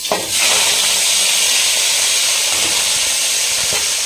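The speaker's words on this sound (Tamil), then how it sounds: "இப்போ வந்து பார்த்தீங்கன்னா ஆயில் ஹீட் ஆகிடுச்சு. நம்ம வாஷ் பண்ணி வச்சுருக்குது அப்படியே சேர்த்துக்கலாம்" Washed meat hits hot oil in a village-style Tamil kitchen, bursting into a loud, close, continuous sizzle and hiss that holds steady throughout.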